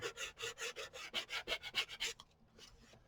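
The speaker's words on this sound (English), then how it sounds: "So sanding this down to the file folder" Rhythmic back-and-forth rasping of sandpaper on a paper file folder cover, about a dozen quick strokes, close and clear, then fading to quiet.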